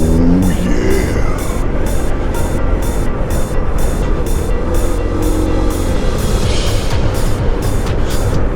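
Honda ADV160 scooter accelerating under throttle, a steady loud engine drone with a rising rev note early on, over constant wind and road rumble throughout.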